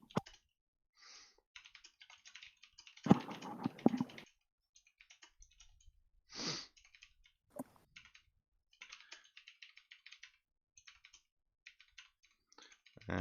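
Fingers tap code on a computer keyboard in quick irregular bursts of soft clicks, with a louder flurry of keystrokes and a few pauses, close and quiet with no talking.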